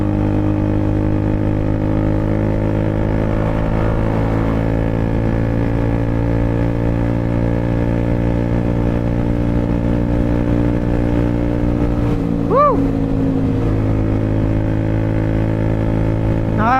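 A Triumph Speed 400 motorcycle engine idles steadily with a droning hum, then briefly revs up and settles back down; the sound stays continuous and close throughout.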